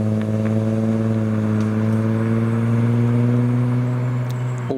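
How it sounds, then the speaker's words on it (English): A Toyota Supra pulls away from a classic car show, its engine giving a loud, steady drone with strong low harmonics. A slight rise in pitch suggests gentle acceleration. "the Supra, leaving the show."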